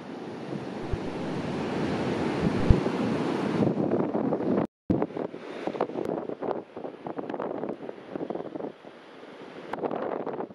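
Ocean surf breaking along the shore of the Uruguayan countryside, a steady roar of waves with gusty wind buffeting the microphone, briefly cutting out midway before the wash and wind continue.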